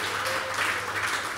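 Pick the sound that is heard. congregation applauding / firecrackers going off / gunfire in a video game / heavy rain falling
congregation applauding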